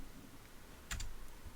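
A short burst of keystrokes on a computer keyboard while a Korean school name is entered into a Google Form field, a couple of quick close clicks over a quiet room.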